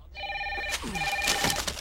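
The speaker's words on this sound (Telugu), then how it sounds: "కృష్ణ, నీకే బాబు ఫోన్." A telephone rings in a shop with steady repeated electronic tones, followed by some nearby handling noise.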